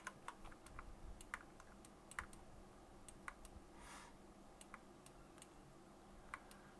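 Rapid, light keystrokes on a computer keyboard during an interior-design rendering session, scattered irregular clicks at low level over a steady background hiss.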